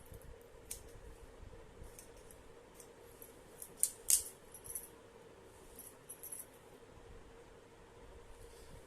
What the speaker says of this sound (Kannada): ಇದು ನಾವು ಬೆಲ್ಟ್ ಪಟ್ಟಿಗೆ ಈ ಥರ ಕಟ್ ಮಾಡ್ಕೊಬೇಕು